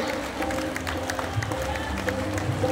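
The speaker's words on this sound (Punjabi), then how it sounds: "ਤਾੜੀ ਲਾ ਲਿਓ ਹੁਣ ਗੱਜ ਕੇ" A crowd claps steadily throughout at a Sufi devotional fair, a dense, continuous patter of applause from a large gathering with a faint murmur beneath.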